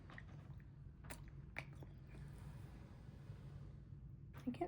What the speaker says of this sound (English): Wait, I'm still chewing.